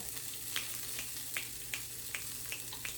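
Rapini charring in a hot pan for a sausage pasta, with a steady sizzle and frying hiss and a few sharp pops every half second or so, moderately loud and close with no talking.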